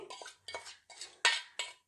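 A metal spoon scrapes and knocks against a pan as tempering is emptied into lemon rice, making five short, close scraping clatters with brief pauses between them.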